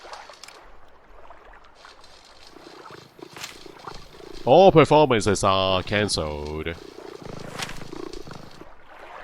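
In the video game Dark City: Amsterdam, a cat lets out a loud, drawn-out growling purr midway through, rising and falling for a couple of seconds, with game dialogue and ambient sound before and after.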